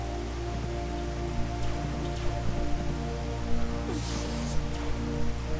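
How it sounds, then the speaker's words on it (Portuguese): Rain falling in the video game Dig or Die, a steady soft patter of drops on surfaces over a low constant hum, with a brief brighter burst partway through. "Tá brava essa chuva."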